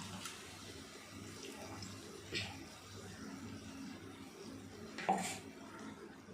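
A blender jar and a curry bowl are rinsed with water in a home kitchen after grinding masala for brinjal kuzhambu. There is steady splashing with soft clinks of the vessels and two brief sharper knocks.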